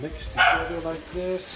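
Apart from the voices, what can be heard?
dog barking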